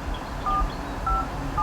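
Touch-tone dialing of a telephone for a call about a security-guard job, heard as three short separate beeps spaced about half a second apart over a low hum, with no talking.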